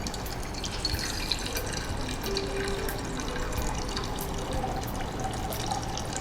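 Water runs steadily into a cooking pot, filling it for boiling vermicelli in a kitchen, a continuous moderate pour and splash lasting several seconds with no talk.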